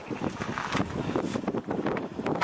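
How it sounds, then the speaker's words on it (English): Gusty wind buffets the microphone beside a canal near a marina, a steady broadband rumble and rush with rising and falling gusts throughout. "I hope you can hear me over the wind"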